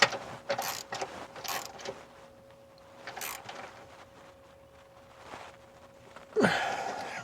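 A ratchet wrench tightening transmission mount bolts on a 2007 Ford Edge 3.5L, with several quick bursts of clicking pawl ratcheting near the start and middle, a steady faint hum beneath, and a louder clunk near the end.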